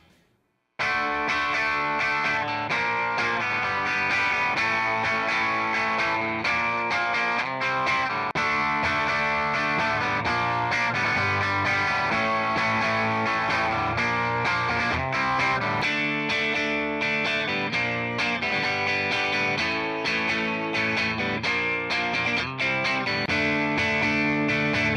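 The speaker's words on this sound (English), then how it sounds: "So I'll play some quick riffs on it on Clean and Distortion" An Epiphone ET-270 electric guitar plays quick riffs on clean and distorted settings, dense and continuous with a chorus-like shimmer throughout, loud and alone without talk.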